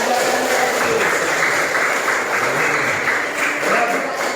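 Students in a classroom applaud a classmate, a steady, fairly loud wash of group clapping lasting several seconds, with faint voices mixed in.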